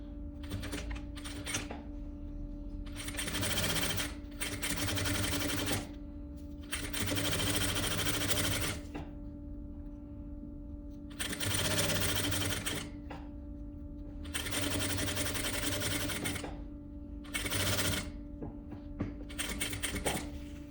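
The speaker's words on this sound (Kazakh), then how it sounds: "үстіне бастырып тігіп шығамыз." A sewing machine stitches a vest in repeated bursts of rapid, close mechanical chatter, each run lasting a few seconds and separated by brief pauses.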